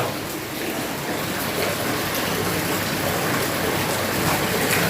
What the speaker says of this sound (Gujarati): હેવી રેન પડે, હેવી.